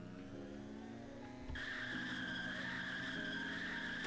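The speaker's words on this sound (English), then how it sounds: "See if it can hold a longer burnout in third." A 2018 BMW 3 Series holds a long tire burnout in third gear, a steady high squeal over the engine drone that jumps up in strength after a short thump and then continues unbroken.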